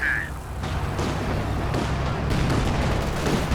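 A double autocannon fires in a real-time strategy game battle, heard as a dense, loud, continuous roar of rapid shots and booms with no break.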